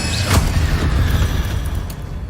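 Someone casts an Incendio fire spell in Hogwarts Legacy, producing a loud, close booming whoosh of flame with a sharp initial burst and a rumbling low roar that sustains and slowly decays over about two seconds.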